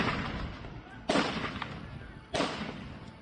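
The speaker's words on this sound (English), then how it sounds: "Seconds later, the first gunshots ring out." Two sharp, loud gunshots crack out at Bondi Beach about a second apart, each a sudden broadband blast over a constant outdoor noise bed.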